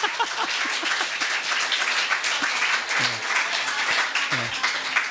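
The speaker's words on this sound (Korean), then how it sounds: "사실 뭐 2부 예배 때 박수 한번 칠까요?" A church congregation clapping during a Sunday service, a dense sustained round of applause from many hands, loud and filling the room, with a few voices faintly mixed in.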